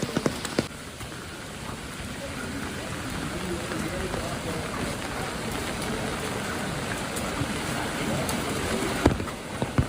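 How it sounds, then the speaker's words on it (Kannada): Heavy rain pours steadily in the forest on the trek to Kavaledurga fort, a dense, continuous wash of drops loud and close throughout, with a few sharper splashes near the end. "ಹೆವಿ ಮಳೆ."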